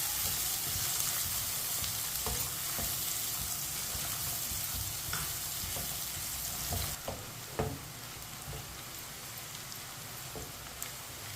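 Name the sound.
garlic and onion frying and browning in a pan, stirred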